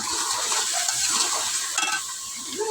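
Pieces of fish hit a pan of cooking curry with ridge gourd and sizzle steadily, with light stirring and utensil scrapes close by.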